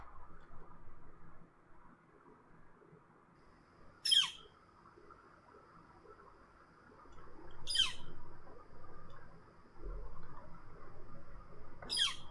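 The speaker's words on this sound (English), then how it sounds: "That's one of the many calls of the northern flicker woodpecker." Northern flicker woodpecker calls three times, at about four-second intervals, each a short sharp high note standing out over a steady low background hum.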